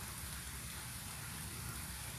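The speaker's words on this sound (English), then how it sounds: "it was raining outside" Steady rain pours outside, a dense even hiss of drops on surfaces with no pauses, moderately distant and alone without voices.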